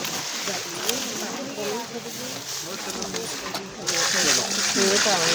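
Water poured and splashing onto soil in an open farm field, a steady sloshing pour running the whole time with people talking over it.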